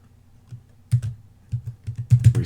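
Typing a folder name on a keyboard while setting up file backups for an E Ink device: a few scattered keystrokes that build into a quick burst of clicks, close and clear over a low hum.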